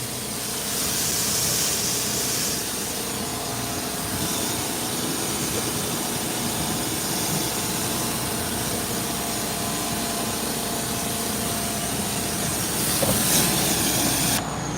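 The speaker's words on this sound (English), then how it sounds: "Spray off everything." A pressure washer sprays water to rinse soap off a truck, a steady loud broadband hiss running continuously with a low rumble beneath, surging slightly near the end.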